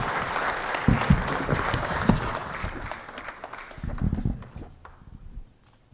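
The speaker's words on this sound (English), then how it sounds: "I think that deserves another round of applause" Audience applause at a product launch event in a hotel in Blantyre, a moderate burst of clapping that gradually thins and fades away over several seconds.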